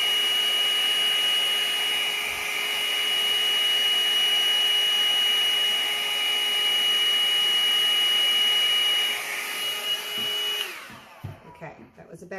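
Air is blown steadily onto a teal and orange gel stain pour, a constant whirring hiss with a thin whine, close and loud, cutting off near the end into quieter shuffling.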